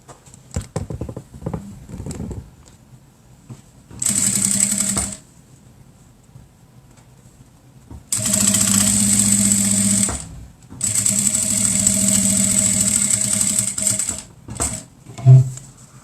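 A sewing machine stitches elastic onto a 3D cloth face mask in three steady bursts of close, even whirring, with pauses between for turning the fabric.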